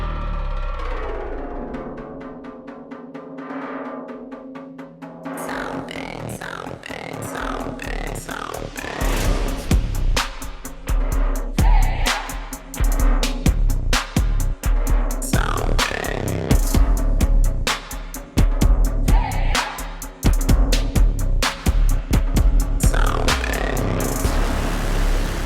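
Soundpaint Epic Taiko Ensemble drums in a full mix with other instruments: a sustained low orchestral pad opens alone, then loud, deep taiko hits enter around five seconds and pound rhythmically through the rest alongside the ensemble.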